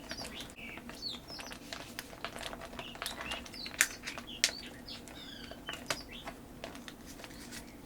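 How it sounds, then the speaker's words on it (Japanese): Birds chirp and tweet repeatedly at a moderate distance, quick bright calls scattered over a quiet background with faint clicks and rustles. "勝手に鳴いてるだけですね。 生鳥が。"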